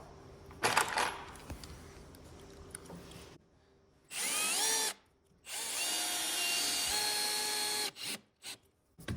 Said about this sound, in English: I'm actually gonna throw a screw in on the end here pull this up tight